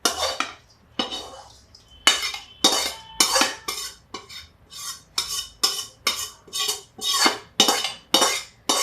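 Semolina (rava) being stirred in a hot kadhai for pistachio-almond laddoos, a steady run of bright metallic scrapes and clinks from the spoon against the pan, close and fairly loud, about one stroke per half second with no talking.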